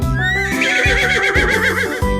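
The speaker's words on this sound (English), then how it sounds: "Horse" A horse on a farm lets out a loud, close whinny, its shaky pitch rising and wavering over about two seconds, with no talking.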